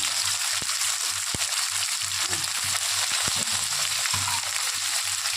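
Chopped tomato goes into a hot pan of Bengali fish curry with a steady, moderate sizzle of frying oil throughout, broken by a few sharp clicks and light stirring bumps.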